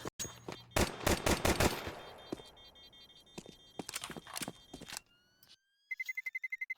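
Rapid bursts of pistol gunfire in a Counter-Strike pistol round at a South American ESL Challenger League esports match, loud sharp shots in quick clusters, followed by a few electronic game beeps near the end.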